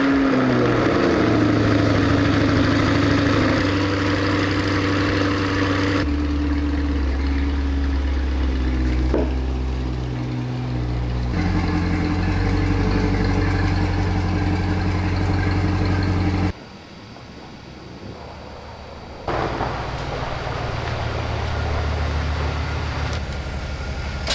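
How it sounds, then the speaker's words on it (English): A garage heater runs in winter, giving a steady, loud mechanical drone with a low rumble that shifts in pitch a few times and briefly drops quieter before resuming. "Don't mind the noise from the heater."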